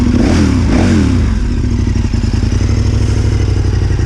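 A KTM 1190 Adventure R motorcycle engine runs close by, a loud throbbing idle with a brief rising rev early on before settling back to a steady rumble.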